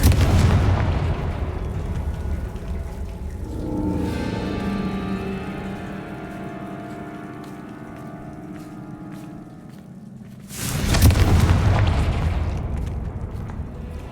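Confringo blasting spells burst in Hogwarts Legacy gameplay: a heavy booming explosion with a long crackling, debris-like decay, then a second loud blast near the end.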